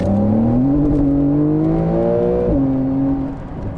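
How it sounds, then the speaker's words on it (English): A 2020 Porsche 911 Carrera S accelerates hard, its engine note climbing steadily in pitch, dropping briefly at a gear change, then pulling again loud and close. "Let's do a little bit of an acceleration here."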